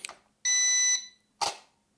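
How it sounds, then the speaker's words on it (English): Toy drone controller for a GT3, V66, D16 Mini or i1 Pro drone beeping during calibration, a clear half-second electronic tone amid brief handling noises, nearby and otherwise quiet. "basically once it beeps"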